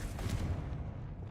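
A Confringo spell from a Harry Potter video game erupts as a loud, low blast with rough crackling rumble, sustained briefly and heard alone.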